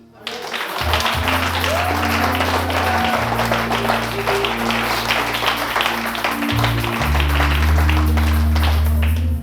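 Church congregation applauding and cheering for Jesus, a dense run of clapping with shouts over a sustained organ or keyboard chords, loud and continuous throughout.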